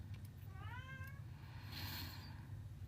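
A cat meows once, a drawn-out rising-then-falling call near the mic over a low steady background hum, with no talking.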